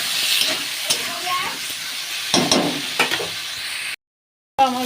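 Chopped tomatoes stirred into a pan of shol (snakehead) fish curry, with a steady frying sizzle and hiss broken by scraping stirs, briefly cutting to silence before resuming.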